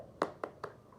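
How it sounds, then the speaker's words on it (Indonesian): Students in a classroom cheer by clapping and slapping their desks, giving three sharp, evenly spaced beats within a second. "Boleh kita tepuk semangatnya pakai meja aja"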